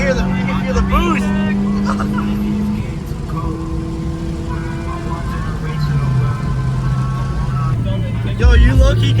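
Honda Prelude VTEC engine pulling hard while driving, a loud steady roar with rising and shifting tones throughout, mixed with wind and people talking over it.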